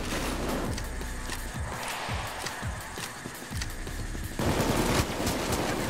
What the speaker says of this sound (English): Cloaker remover, also known as the Thanatos 50 cal sniper rifle.